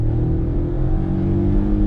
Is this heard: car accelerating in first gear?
yes